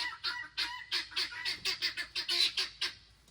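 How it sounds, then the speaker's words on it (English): Guinea fowl in a coop give a loud, rapid run of harsh, raspy calls, about a dozen in quick rhythmic succession, close by and clear with no talk over them. "only the guinea fowl are going in this. That's those things that are so loud."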